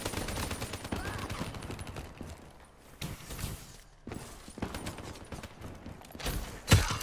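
Bursts of rapid gunfire from a weapon in Call of Duty: Black Ops 3 crackle in quick succession, with short pauses between volleys and a louder shot near the end.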